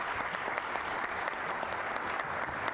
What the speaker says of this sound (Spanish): Un aplauso, por favor, para Miquela.